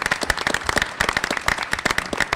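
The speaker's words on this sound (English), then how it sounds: "if you could give them a round of applause" Applause at a school committee meeting from a small group, the sharp individual claps distinct and close-sounding, with an uneven rhythm and no speech.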